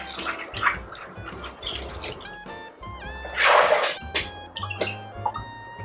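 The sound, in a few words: washing Chinese herbs in water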